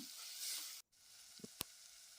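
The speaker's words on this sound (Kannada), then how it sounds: "ಒಂದು ನಿಮಿಷ ಇದನ್ನು ಎಣ್ಣೆಯಲ್ಲಿ ಫ್ರೈ ಮಾಡ್ಕೊಳ್ಳೋಣ" Coriander powder frying in oil for a buttermilk rasam, a soft, faint steady sizzle with a brief dropout and a couple of small clicks.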